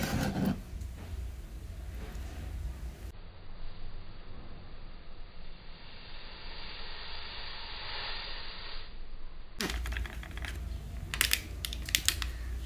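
An instant coffee sachet is torn open in a steady, crinkly rasp of foil and paper that runs for several seconds up close, with rustling handling noises around it and no talking.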